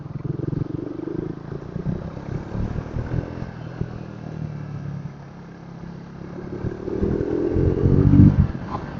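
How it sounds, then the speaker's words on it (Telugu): A Triumph Thruxton 400 on its stock exhaust rumbles steadily while riding along a road, the engine note rising and growing louder toward the end, with rushing wind underneath. "స్టాక్ ఎగ్జాస్ట్ ఇంత లౌడ్ సౌండ్ వస్తుందంటే"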